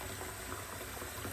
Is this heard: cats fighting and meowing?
no